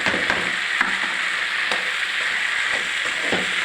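Masala sizzles steadily in a hot pan while being sautéed for a coconut kuzhambu, a close, continuous frying hiss broken by a few soft stirring knocks.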